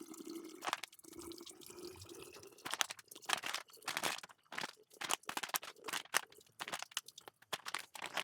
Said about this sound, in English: Just wanna run water through the filter.